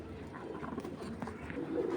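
Racing pigeons of one colour, kept as a pair, cooing softly at close range in a low, throaty murmur while someone talks over them.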